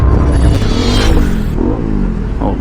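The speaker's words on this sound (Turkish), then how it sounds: "Al egzoz patlattı." A motorcycle ridden on a street revs and lets out a loud backfire from its exhaust, a rough rumbling engine roar close by with sharp popping bursts.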